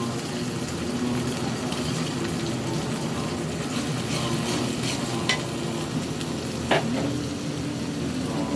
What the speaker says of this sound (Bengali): চিংড়ি মাছ দেওয়া হচ্ছে।